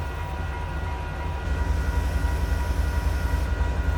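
A CN freight train rolling steadily along the track near milepost 125 on the Napadogan Subdivision, a loud, close, continuous low rumble and grinding roar of cars with no talk, swelling slightly partway through.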